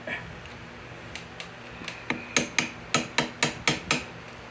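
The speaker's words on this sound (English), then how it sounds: "I'm going to try and wedge the chisel in here a little bit." A hammer strikes a chisel wedged into a seized 1979 Vespa P200E engine, about a dozen sharp metallic taps that start faint and grow louder and steadier, close by.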